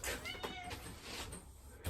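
A house cat meows briefly indoors, a short faint call amid quiet room noise and a light knock.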